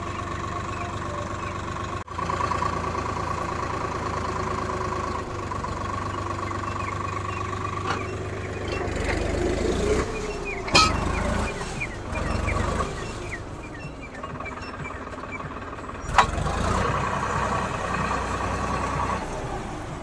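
A heavy diesel tractor engine runs steadily, idling and then straining as the tractor is stuck in mud, with revving surges and a few sharp knocks, all without speech.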